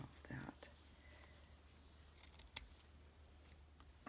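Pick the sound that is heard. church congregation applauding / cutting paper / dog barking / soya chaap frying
cutting paper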